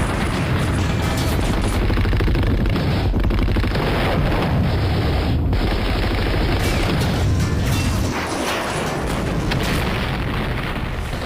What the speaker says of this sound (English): Russian troops might be able to move in, pepper these windows of MG fire